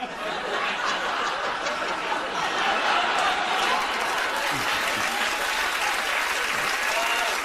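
Studio audience clapping during a live talk show, a steady sustained round of applause mixed with scattered chuckles and laughter, continuing evenly throughout.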